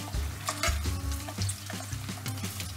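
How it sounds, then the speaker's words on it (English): Quail coated in honey glaze sizzles and crackles steadily in a hot pan, with close, continuous frying hiss and occasional stirring scrapes, no talking. "So we're going to keep the quail in our pan for about a minute or two."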